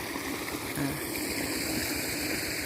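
Water released into a rice paddy where the grain is heading, a continuous close rushing flow, loud and steady throughout.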